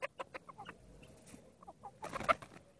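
Hens cluck in short, scattered bursts, soft and close, with a livelier flurry of clucking toward the end.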